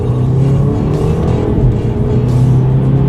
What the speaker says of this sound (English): let's do a quick little acceleration with the paddle shifters